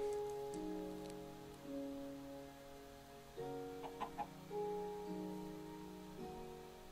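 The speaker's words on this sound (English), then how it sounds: "chicken." A Minecraft chicken gives a few soft, brief clucks during a hardcore survival game, set against steady game music and ambient background sound.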